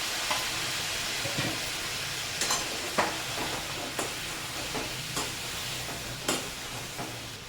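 A spoon stirs Kitchen King masala into stuffed ridge gourd in a hot pan, giving a steady sizzling hiss broken by a string of light scraping clinks against the pan.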